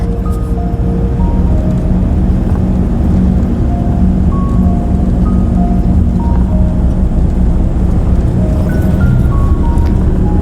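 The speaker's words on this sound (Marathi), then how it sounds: "आता हळूहळू ट्रॅफिक सुरू झाली" Steady, loud road traffic rumbles along a road through Aarey Colony, Mumbai, with a constant low engine drone and a series of horn toots scattered throughout as vehicles pass nearby.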